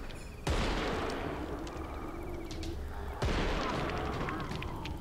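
In an online zombie survival shooter game, two heavy gunshot blasts ring out a few seconds apart, each followed by sustained rumbling noise, while a voice talks faintly underneath.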